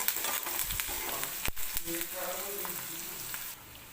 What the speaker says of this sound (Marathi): कांदा तेलामध्ये भाजतोय